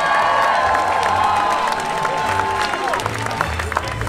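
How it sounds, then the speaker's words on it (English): A crowd cheers and shouts at a 2018 France versus USA armoured knights 5 v 5 medieval combat event in Scotland, a loud, steady roar with whoops and a whistling tone, with some speech mixed in. "Come on, make some noise for our American brothers."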